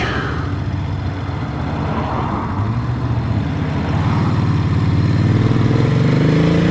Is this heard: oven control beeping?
no